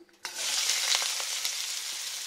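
Onion pieces drop into hot oil in a pan for a prawn curry. A sudden, loud burst of sizzling follows and settles into a steady frying hiss with faint stirring clicks.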